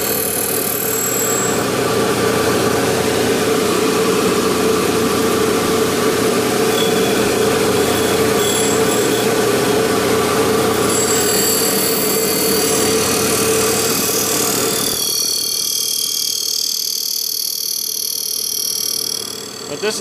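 An Abrasive Machine Tool Co. Model 3B surface grinder with a 3 horsepower spindle and a 12-inch wheel takes a heavy cut of 10 to 15 thou: a loud, steady grinding whine and hum that drops away sharply near the end.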